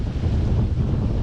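Strong wind buffets the microphone aboard a sailboat in windy conditions, with the wind on the starboard quarter, a loud continuous low roar mixed with the wash of waves and no talking.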